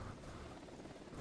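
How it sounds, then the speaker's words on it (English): A steady, low rotor drone of a helicopter in the video game Earth Defense Force 4.1 fills the whole moment, constant and fairly close, with no voices over it. "Can I destroy that helicopter?"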